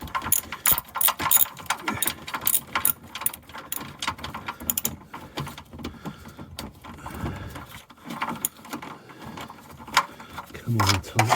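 A ratchet tightening a nut, with rapid clicking bursts of the pawl in quick repeated strokes, close and fairly loud, pausing briefly between runs.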